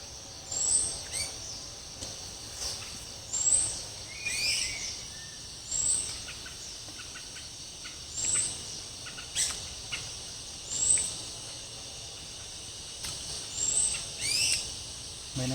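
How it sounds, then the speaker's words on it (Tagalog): Birds calling in open grassland, repeated sharp high-pitched calls every couple of seconds over a faint insect-like background hum. "Parang sigaw-sigawan ng mga ibon dito."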